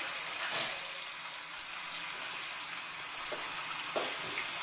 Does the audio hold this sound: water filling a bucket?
yes